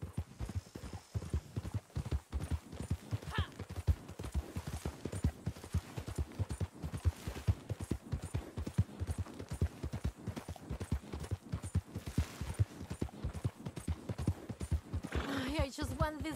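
Horse hooves clip-clop at a steady trot in Red Dead Redemption 2, rhythmic and close, with a neigh near the start and a louder whinny at the end while someone talks over the ride.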